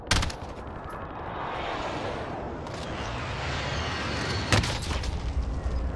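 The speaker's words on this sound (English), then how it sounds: "Where the fuck am I getting shot from?" Gunfire in Call of Duty Modern Warfare multiplayer: a few sharp, loud shots and bursts ring out over a dense, steady battlefield roar, with a heavier blast near the end.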